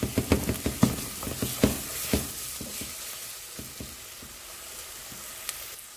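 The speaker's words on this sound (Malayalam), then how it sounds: "മസാലയുടെ പച്ചമണം മാറുന്നവരെ നമുക്ക് ഇതൊന്ന് വഴറ്റി എടുക്കാം." Masala for a Kerala fish curry sautéed in a pan, with a quick run of spoon scrapes and stirring knocks over the first couple of seconds, then a soft, steady sizzle as the stirring eases off.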